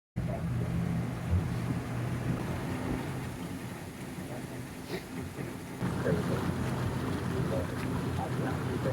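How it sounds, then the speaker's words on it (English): A ferry boat crossing a lake in the Sierra Nevada, its steady low engine rumble droning throughout under wind noise and water wash, with faint voices of people aboard. "we'll all go down with the ferry, jump on the ferry and head out"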